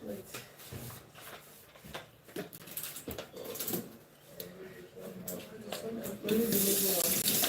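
Running water from a tap splashes into a sink, with clatters and brief voices nearby, the flow growing louder and steadier toward the end.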